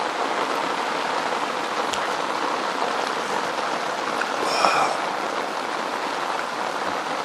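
Steady rain patters on a tarp stretched over an iron-walled hot tent overnight, a dense continuous hiss with a few louder drips and splashes, close and fairly loud throughout.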